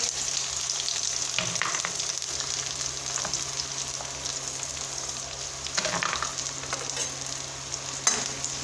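Onions fry in a pan with a steady, moderate sizzle, interrupted now and then by soft stirring scrapes.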